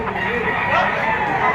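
Bull stag rooster at a Lipa City, Batangas poultry market, brief clucking and fowl calls close by amid market bustle, with people talking over the birds.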